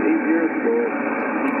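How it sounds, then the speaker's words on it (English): Weak 40-meter amateur radio signal received on a Yaesu FTDX5000 transceiver, a steady wash of band hiss and static with faint tonal traces of a signal buried in the noise, continuous and fairly loud throughout. "Going to try to pull out a weak signal here on 40 meters with the FTDX5000."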